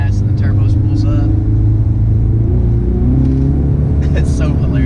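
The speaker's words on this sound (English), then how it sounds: "Then you just give it a little gas and the turbo spools up" A tuned 2018 Mustang EcoBoost with a 10-speed automatic accelerates, its engine a loud, steady rumble from inside the cabin as the turbo spools, with a voice talking over it.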